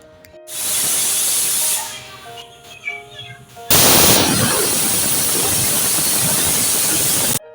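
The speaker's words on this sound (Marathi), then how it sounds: "कुकरच्या शिट्ट्या आपल्या घेऊन झालेल्या आहेत" A pressure cooker on the stove, boiling colocasia leaves, lets out loud sharp bursts of hissing steam, first a long blast, then sputtering puffs, and finally a sustained forceful close-up whistle and hiss.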